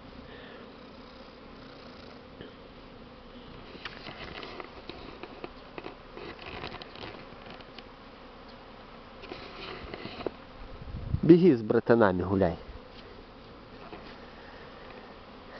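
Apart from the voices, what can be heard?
honeybees around hives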